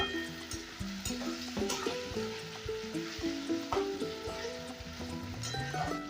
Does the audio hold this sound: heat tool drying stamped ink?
no